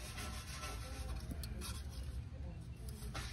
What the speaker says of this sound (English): pull, spin in the sandpaper, just like that